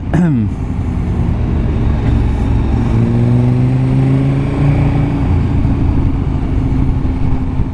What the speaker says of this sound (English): Your bike's still fairly noisy when you get behind it.